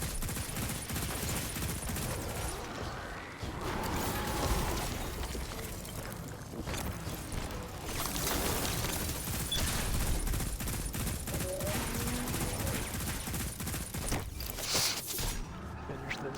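Continuous gunfire in the Destiny video game during a Stasis Hunter PvE fight, with dense rapid shots and booming impacts running almost the whole time, fairly loud, with a brief lull near the end.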